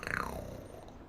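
A human voice imitates a relaxed cat purring, giving a brief, soft, rolling rumble that fades out within about a second.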